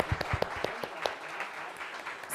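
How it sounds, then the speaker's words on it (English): Audience applause at a social media strategy talk, a short burst of scattered claps that quickly thins out and fades, fairly faint. "Let's give a round of applause,"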